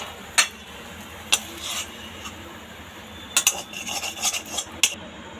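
A metal spoon scrapes and clinks against a pan and plate as fried spice mix for Bengali egg devil is moved onto a plate: a few sharp, sparse clinks with soft scraping between, no voices.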